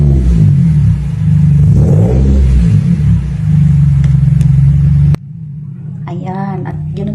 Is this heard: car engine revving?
yes